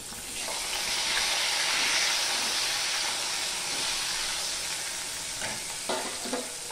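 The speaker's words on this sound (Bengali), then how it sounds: "আমি দুটো দুটো করে মাছ ভেজে নেব।" Pabda fish fry two at a time in a kadai with a steady, loud, hissing sizzle and some steam. A few sharper scraping knocks come near the end.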